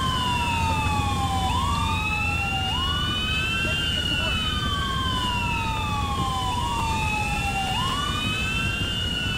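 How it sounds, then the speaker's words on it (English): Several wailing sirens in a police patrol video game, including an ambulance, sweep up and down over a continuous roar of traffic, loud and overlapping throughout. "And an ambulance as well."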